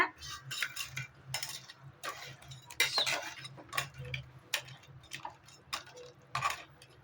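A metal ladle stirs crab soup in a cooking pot, giving repeated light scraping clinks and knocks against the pot's sides in an irregular rhythm, close and moderately loud with no talking.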